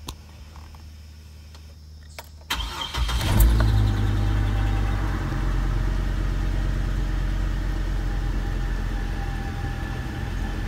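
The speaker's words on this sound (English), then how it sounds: "I'm going to start the engine" A car engine cranks and catches after a quiet moment, then settles into a steady, loud idle with a constant low rumble that runs on to the end.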